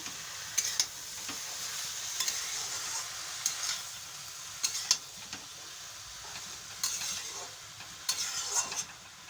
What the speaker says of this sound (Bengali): এবার দিয়ে দেবো শাপলাগুলো ভালো করে নাড়াচাড়া করবো